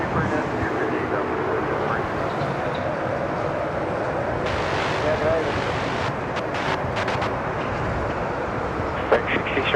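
A Cebu airliner takes off from runway 34 left at Sydney Airport: a continuous broad jet roar holds steady and loud throughout, with a few faint clicks near the end.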